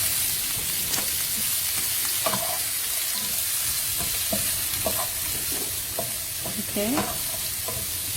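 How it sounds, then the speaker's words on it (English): Onion sizzles steadily in a pan while being cooked for pasta, with a constant loud frying hiss and occasional utensil clinks as it is stirred. A brief spoken word is heard. "I'm adding onion as well. And then just let it cook."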